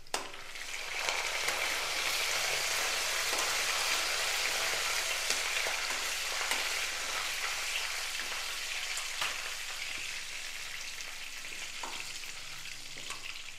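Dried red chillies and curry leaves frying in hot oil, a soft steady crackling sizzle with small pops and faint stirring sounds, alone without voices.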